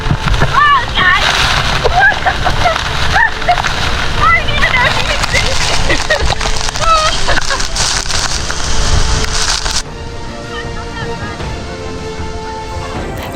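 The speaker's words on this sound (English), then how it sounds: "After some significant rain, Twin Falls was clearly in its element. The water was pumping" Twin Falls in Springbrook National Park, swollen after heavy rain, pours in a loud, constant splashing rush of water close by, with other tonal sounds layered over it before the roar drops to a quieter level near the end.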